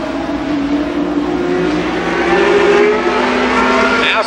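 Super late model stock cars racing around Columbus Motor Speedway, a loud continuous pack of engines droning and revving together, steady and close throughout with no break.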